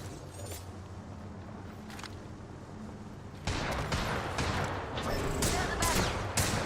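Gunfire in the video game Apex Legends: after a quieter stretch, a loud run of overlapping shots and sharp bursts erupts and keeps crackling to the end.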